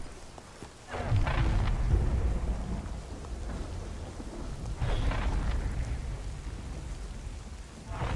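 A thunderstorm with steady rain plays in the video game The Cycle Frontier: a continuous rain hiss runs throughout, with rolling rumbles of thunder swelling twice, fairly faint overall and without speech.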